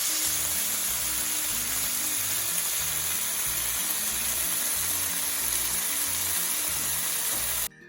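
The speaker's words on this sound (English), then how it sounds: "I'm going to go put this all in the cast iron skillet. And we'll fry it up" Thick-cut smoked maple bacon fries in a cast iron skillet with a steady, dense sizzle that holds at even loudness for several seconds, then abruptly cuts off near the end.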